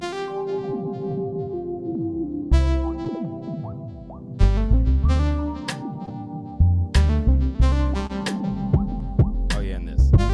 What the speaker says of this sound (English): every sound you're hearing right now is all the OP1.